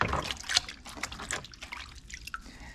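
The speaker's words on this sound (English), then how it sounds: "Give the mat a good rinse." Water splashes and trickles while a gold sluice mat is rinsed out by a Michigan river, with irregular dripping and pouring sounds, close and moderately quiet.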